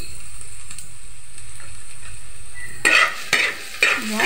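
Garlic sautés in a pan until golden brown for adobong chicken flakes. A faint background sizzle gives way to loud, close bursts of stirring and frying with scraping at the end, and no talking.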